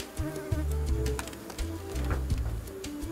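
A steady, droning buzz of many bees around an opened hive, with low humming swells and higher whining notes overlapping continuously, fairly close.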